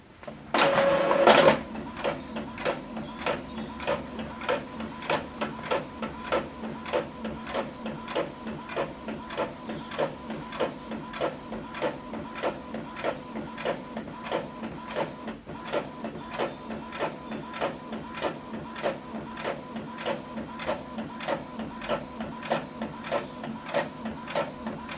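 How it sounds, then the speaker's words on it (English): An Epson Workforce printer prints a single-page document: a brief loud whir at the start, then a long run of quiet, evenly spaced mechanical ticks and clicks as the page feeds through. "So this document is printing out."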